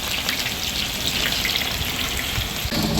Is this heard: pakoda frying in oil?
yes